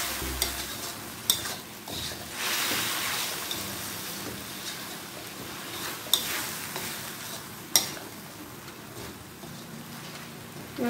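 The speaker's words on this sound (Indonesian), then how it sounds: "Diaduk lagi." Fried rice vermicelli with tofu is stirred in a pan after a splash of water is added, giving a continuous hissing sizzle with occasional sharp scrapes and taps of the utensil, close and steady.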